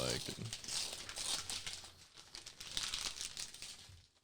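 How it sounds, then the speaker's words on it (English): Wrapping paper on a gift crinkles and crumples continuously up close as it is slowly and carefully unwrapped, a busy rustling texture that fades out near the end. "I usually like to unwrap them real nice"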